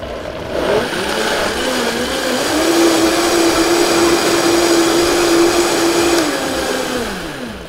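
A kitchen blender whirs as it purees fruit and yogurt into a smoothie. It spins up quickly, holds a steady, loud motor whine for several seconds, then winds down, with no talking over it.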